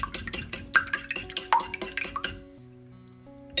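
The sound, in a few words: whisking a savoury mixture with dried mint in a bowl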